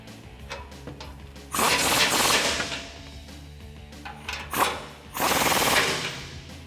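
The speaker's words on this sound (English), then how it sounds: "so we're gonna jump back to the impact for that." An impact wrench hammers a bumper nut tight on a 2018-2019 Ford F150 during a front bumper install, with two loud rattling bursts separated by lighter clicks and handling noise, heard up close.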